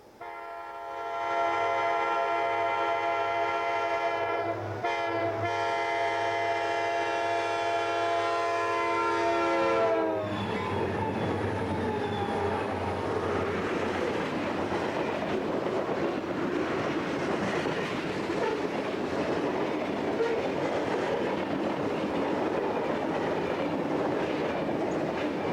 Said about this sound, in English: another SP train heads north behind a mixture of power including a leased CSX unit